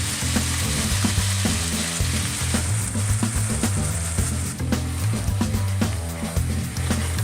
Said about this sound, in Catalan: Ho deixarem fregir un parell de minutets.